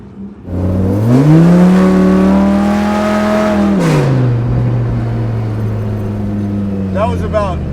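A car engine revs hard under roughly a third of throttle, the pitch climbing quickly and holding loud and close before easing back to a lower rumble.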